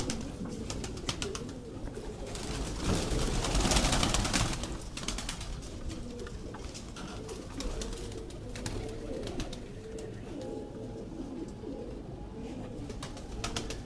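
Pigeons coo repeatedly, soft low throaty calls overlapping amid a steady background rustle, with a louder burst of noise midway.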